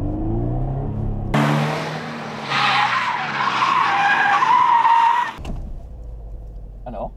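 Toyota GT86 skidding under handbrake braking, a loud tyre screech rising out of engine noise and holding for about four seconds before cutting off, with a voice talking briefly at the end.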